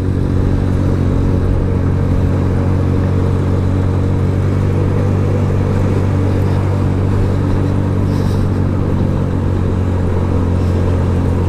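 A Suzuki Yes 125 motorcycle climbing a winding mountain road near Teresópolis, its small engine droning steadily with a constant low hum and wind rush, close and unbroken.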